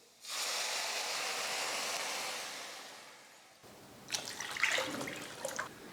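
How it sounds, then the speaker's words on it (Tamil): Water poured into a pot on a stove while cooking chutney, about a litre added in a steady hissing pour that fades after a few seconds, followed by lighter splashing and clinking. "இப்போ ஸ்டவ்வை குறைச்சி வச்சுட்டு தண்ணி இது கூட சேர்த்துக்க போகிறேன்."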